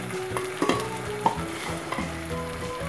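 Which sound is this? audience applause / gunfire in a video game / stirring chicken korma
stirring chicken korma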